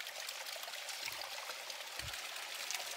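Mountain stream of drinking water flowing steadily on a hillside, a continuous close hiss and trickle with a few brief low thumps, no voices.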